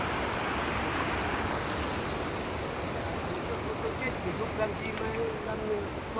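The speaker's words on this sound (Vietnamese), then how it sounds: "Nước chảy này, con sông này thì chả có con cá nào tồn tại rồi." Water flows in a fishless river in the mountains, a steady, broad rushing roar that fills the whole scene with constant close turbulence, with faint wind in the background.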